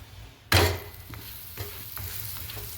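Ghee sizzles under a bajra rotla on a hot pan, a sudden loud hiss at the start that settles into a steady, quieter crackle with a few soft stirring taps.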